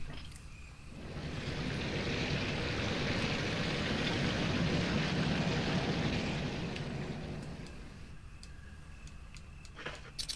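A waterfall in the Resident Evil Remake video game roars as a steady broadband rush, swelling in and holding loud before fading, with faint ticking clicks at the end.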